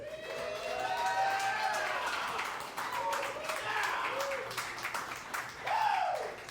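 An audience at a live comedy show claps and cheers in a steady, moderately distant wash of applause, with a few voices whooping above it.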